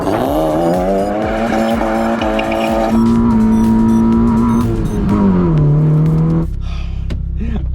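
Honda Civic engine bouncing off the rev limiter, a loud, sustained high-pitched rasp that stutters and shifts pitch, holding near the top before easing down at the end.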